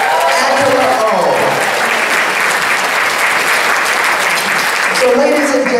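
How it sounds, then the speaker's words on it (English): An audience at an evening gala gives a big round of applause, dense sustained clapping filling the room at high volume throughout. "Let's give her a big round of applause."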